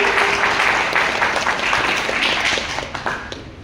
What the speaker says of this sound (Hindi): एक बार जोरदार ताली होनी चाहिए सभी लोगों के लिए